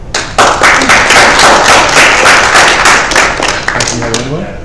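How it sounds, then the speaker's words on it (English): A round of applause in a meeting room, with loud, close claps from a small group, quick and uneven, fading out as a voice comes in at the end. "Do a round of applause for Carmen"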